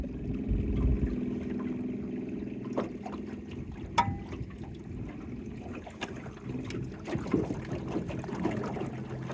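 A boat moves under a battery-powered trolling motor, giving a steady low hum with water sloshing and light wind, plus a few small knocks and clicks on board.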